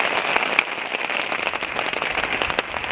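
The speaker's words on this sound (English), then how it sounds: "doesn't look like the rain's gonna, you know, die down anytime soon" Steady rain patters densely on a tarp at a wet bushcraft hammock camp, a close, continuous hiss of drops with brief sharper taps scattered throughout.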